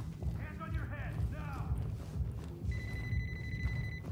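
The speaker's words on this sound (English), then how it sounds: "Yeah, that's a phone right there." Telephone ringing inside a building during a tactical police shooter game, heard as a steady repeating electronic ring over the last second and a half, mid-level beneath constant low game ambience and rumble, with a muffled voice earlier.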